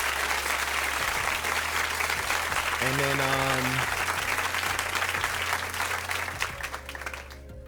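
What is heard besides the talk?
applause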